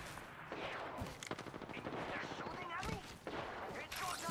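Gunfire in the Apex Legends video game, a dense stream of rapid shots and impacts mixed with game effects, with players talking over the action throughout.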